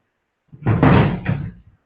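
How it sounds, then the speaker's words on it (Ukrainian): A door swings shut in a meeting room at a Ukrainian commission session, one close, solid thud with a short rattle as it settles, otherwise quiet. "Закривайте двері."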